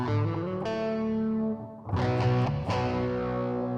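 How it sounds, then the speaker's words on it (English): Heavily distorted electric guitar chords through a metal distortion effect on a Raspberry Pi effects pedalboard ring out thick and saturated, restruck a few times in quick succession, loud and up close. "metal."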